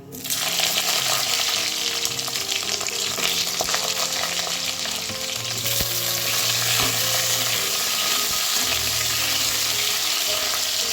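Mango pieces hit hot oil with dried chilli, panch phoron and a bay leaf while mango chutney cooks. The result is a loud, continuous sizzle and frying hiss, with occasional stirring clinks and no talk.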